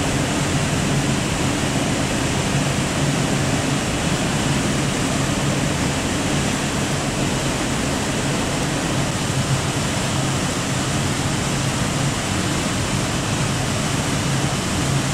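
A waterfall in Jasper National Park thunders continuously, a dense, steady roar of falling water that stays loud and unchanging from start to finish, with no voices over it.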